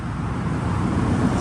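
Steady road traffic noise from passing cars, a continuous low rumble with broadband hiss filling the whole stretch, fairly loud and unbroken, with no talk.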